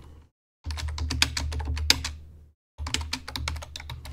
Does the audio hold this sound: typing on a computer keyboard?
yes